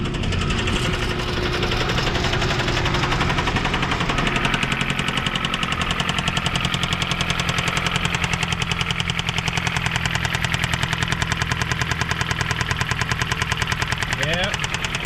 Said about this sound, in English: Definitely sounds like she has a rod knock